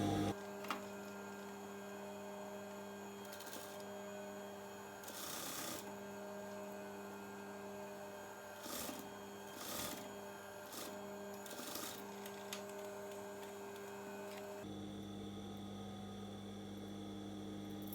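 Sewing machine stitching darts on a halterneck dress, a faint, steady mechanical hum under a constant mains drone, with a few short bursts of clattering along the way and a change in tone near the end.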